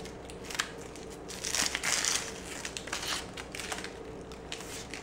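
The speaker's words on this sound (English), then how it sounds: "now you just want to cut that outer layer. And you just start peeling it off." Close crinkling and crunching of an onion's papery outer layer being peeled and torn off, in soft irregular bursts with no talking.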